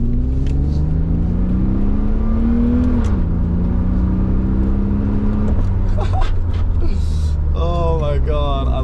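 A Toyota Z10 Soarer drift car's engine hums loudly and steadily, with a rising whine as it accelerates, then settles; a brief squeal and rattle near the end.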